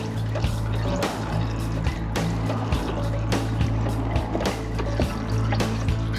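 Brake fluid is pumped through a Honda Blackbird motorcycle brake line while air is bled out, giving repeated sharp clicks and gurgling pulses at a rough, uneven rhythm over a steady low hum. No one speaks.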